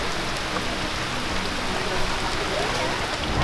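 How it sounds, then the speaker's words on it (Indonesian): Steady hiss of heavy rain falling, a dense continuous patter close by, with a voice faintly present beneath it. "Lagi hujan-hujan."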